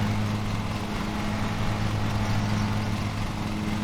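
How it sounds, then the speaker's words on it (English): A lawn mower engine in a lawn mowing simulator game drones loudly and steadily, a constant low hum with a strong tonal buzz and no change in pitch. "they simulated it being so loud when the guy operating the lawnmower is clearly wearing his headphones"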